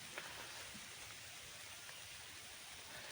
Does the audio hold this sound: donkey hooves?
no